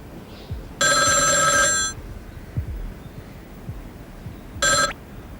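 A telephone rings indoors in a drama scene. One long, bright electronic ring is followed by a pause with soft knocks, then a second short ring near the end.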